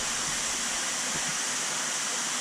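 A waterfall pouring into an aquarium housing a large wels catfish, a constant, even rush of falling water, steady and close, with a faint low thump midway.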